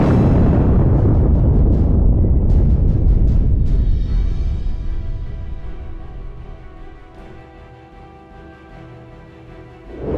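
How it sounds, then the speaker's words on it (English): A grenade explodes in a trench firefight between Ukrainian and Russian soldiers, a loud low rumbling blast that rolls on for several seconds and slowly fades, with a few sharp cracks in between, no voices. "A powerful explosion followed"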